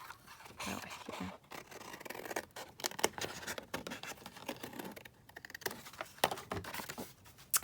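Scissors cutting paper for a faux envelope on collage book pages, with quiet crisp snips and rustling paper handled up close, an irregular series of small cuts.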